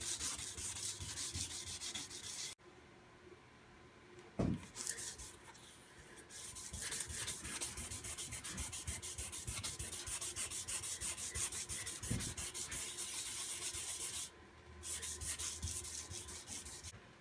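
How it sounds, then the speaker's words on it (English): Steady wet rubbing of micro mesh abrasive on a walnut and epoxy river serving board, a continuous close scrubbing sound with short pauses and a sharp knock partway through. "we're just going to get to wet sanding"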